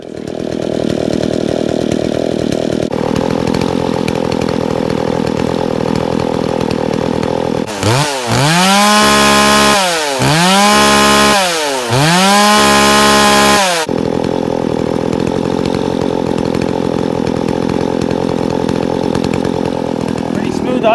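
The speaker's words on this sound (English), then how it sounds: "Pretty smooth idle for a chainsaw." A modified Poulan 4218A chainsaw runs at a steady, smooth idle throughout, close and loud, with a few sharp revs in the middle that rise and fall three times before settling back to idle.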